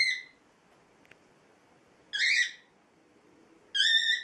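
A cockatiel lets out two long, loud, shrill screaming calls close by, each lasting about half a second, separated by a quiet pause with only a faint click between them.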